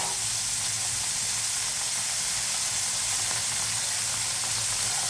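Paneer cubes frying in hot oil, a steady close hiss and sizzle that keeps on without a break and without any talk.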